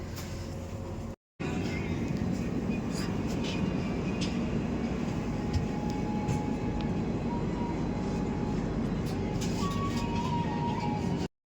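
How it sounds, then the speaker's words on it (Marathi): Steady rumble of a moving passenger train heard from inside an AC coach, a continuous low roar with faint rattles and hums throughout, briefly cut to silence near the start, on a rail journey toward Kedarnath. "आता जस्ट ट्रेन सुरू झाली"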